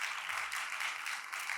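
A church congregation at a young adults' worship service gives a brief burst of welcoming applause for a visiting guest, a dense wash of clapping hands lasting under two seconds.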